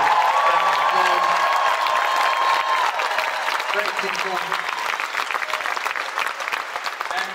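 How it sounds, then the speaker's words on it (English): A concert audience at a Celebrate Recovery summit in Nashville claps loudly, with a steady burst of applause and a few cheers. It fades slightly toward the end while a voice speaks over it. "Can we give them a round of applause?"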